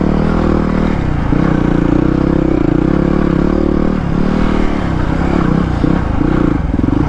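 A Kove 450 Rally motorcycle grinds steadily through deep sand, its loud engine droning close and constant with rises in pitch and rattling clatter throughout.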